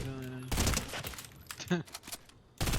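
Fortnite gunfire bursts through the match, sharp cracking impacts with shattering, debris-like texture arriving in several loud clusters, separated by a quieter stretch where a voice speaks briefly.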